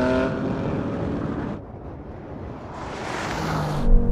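A BMW M3 Touring or AMG C63 S Estate launches in a drag race; a loud engine roars, then drops off before another surge of engine noise and wind builds toward the end.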